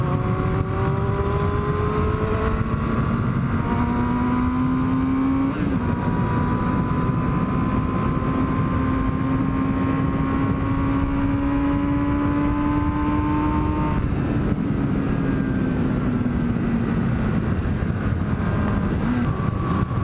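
A low-geared motorcycle engine hums steadily at moderate speed, its pitch easing down as engine braking slows it, with constant wind and road rush throughout.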